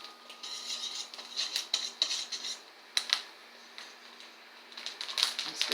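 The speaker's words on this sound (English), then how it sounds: "and I stir." Harina P.A.N. arepa dough being stirred in a bowl, with a run of light clinking and scraping strokes of a spoon against the dish at steady volume, close by and without talk.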